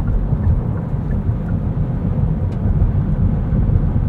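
Road noise inside a 2023 Kia Niro Hybrid SX Touring on 18-inch wheels over rough, potholed pavement, a loud, constant low rumble and roar throughout with no talk.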